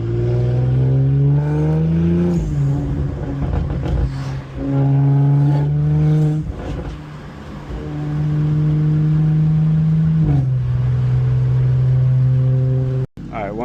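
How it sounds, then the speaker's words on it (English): Audi RS5 in sport mode, its engine revving and dropping through quick downshifts with blips and pitch jumps, loud and close from inside the cabin, with a voice talking over parts of it. "I love the snappy downshifts"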